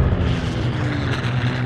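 Droning propeller engines of a Japanese Betty bomber in a wartime attack on a naval ship, a steady, loud, throbbing roar held throughout with no speech.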